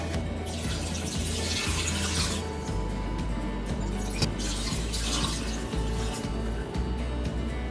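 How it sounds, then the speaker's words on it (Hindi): One kilo of water is poured into a pot of chicken pulao with cloves and curry leaves, giving a continuous splashing, gurgling rush that swells and eases in waves throughout. "इसमें अब हम डालते हैं 1 किलो पानी"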